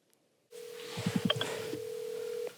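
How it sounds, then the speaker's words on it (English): A telephone dial tone comes on, then a quick series of dialing beeps are keyed in while the tone continues steadily before cutting off. "Let's get someone on the phone."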